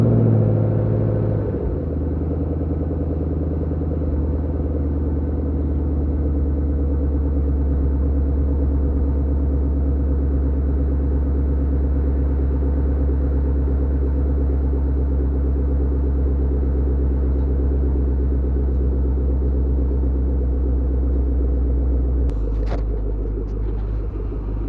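Cold start of a 6-speed Chevrolet Camaro engine left unstarted for about a week on a mild day: a sharp catch, then a loud, deep rumbling idle held close for over twenty seconds before it settles lower near the end.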